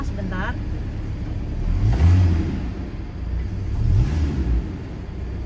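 A Porsche Cayman with its stock exhaust idles close by, then revs twice in two rising, swelling bursts about two seconds apart, each falling back to a deep rumble; a voice speaks briefly at the start.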